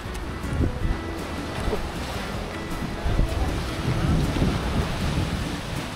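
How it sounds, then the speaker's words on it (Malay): Surf breaking along the shore of Pulau Batu Layang, a small island in Perlis, with gusting wind, a steady broadband roar rising and falling in swells over six seconds, no voices. "Suasana dekat Pulau Batu Layang. Pulau kecil ya."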